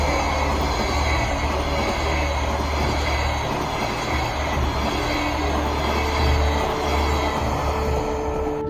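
An electric commuter train in Kyiv rumbles past close by, a steady heavy roll of wheels on rails with faint squeals and a low motor hum.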